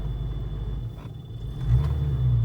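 A Foxbody Ford Mustang with a failing throttle position sensor and fuel trim trouble idles roughly under load in reverse, a low uneven rumble that dips, then swells louder as the engine bogs.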